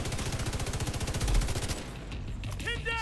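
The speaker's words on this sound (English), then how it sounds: "Whoa, that heavy machine gun" Heavy machine gun in The Division 2 fires a long, rapid, evenly spaced burst for nearly two seconds, loud and close, then cuts off into quieter in-game background with a few chirping effects.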